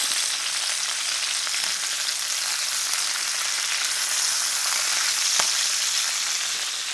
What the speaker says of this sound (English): They're spitting like crazy at me, but they smell amazing.